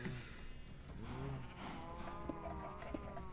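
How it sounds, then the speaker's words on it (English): A cow moos in the blocky Minecraft world, a few drawn-out bovine lows repeating over steady game ambience, fairly close and loud with no talking. "Cow! You stay in there! Cow! Vicious creature."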